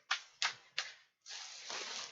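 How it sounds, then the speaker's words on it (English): A Rider-Waite tarot deck is shuffled up close with no talk: three crisp, quick card riffles, then a longer continuous shuffling rustle. "So just going to shuffle the cards."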